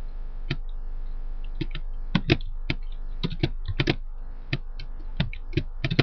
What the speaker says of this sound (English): So go ahead and type that in.